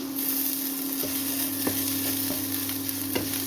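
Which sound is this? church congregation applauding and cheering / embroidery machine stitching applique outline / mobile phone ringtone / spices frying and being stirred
spices frying and being stirred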